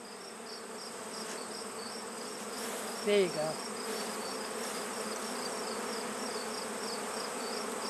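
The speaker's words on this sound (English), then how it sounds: "You got most of the bees off." Honeybees buzzing steadily around a late-summer backyard hive, a continuous close drone with a short spoken comment partway through.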